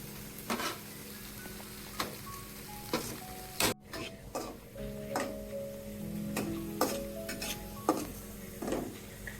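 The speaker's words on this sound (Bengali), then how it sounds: "আর নাড়াচাড়া করে আমি দমে দিব" Soybean pilaf being stirred in a pan, with irregular utensil scrapes and light clinks against the metal over a faint sizzle, close but quiet.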